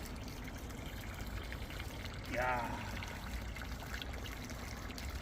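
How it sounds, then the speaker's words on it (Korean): Water trickles softly and continuously in a garden pond outdoors, with a brief brighter splashing pour in the middle and a short vocal exclamation. "물소리 너무 좋다"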